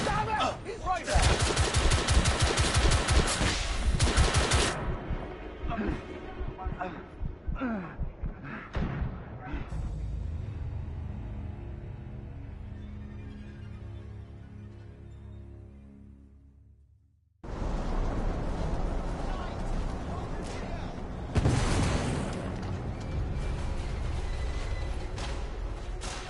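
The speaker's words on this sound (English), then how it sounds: "The damage from the explosion is getting worse." Gunfire and an explosion aboard a ship in the video game The Order 1886: bursts of rapid loud shots, then a long decaying rumble fading to near silence, followed by renewed heavy gunfire and booms.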